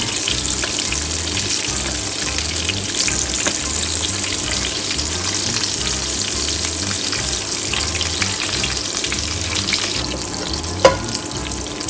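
Elk fillet sizzles steadily in a pan while hot aromatic butter is spooned over it, a continuous close frying hiss with one sharp clink near the end.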